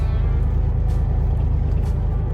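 Steady low road and engine rumble from a car on the move during a pre-road-trip check, with the front end listened to for noise from a broken sway bar end link; a continuous, even drone with no voices.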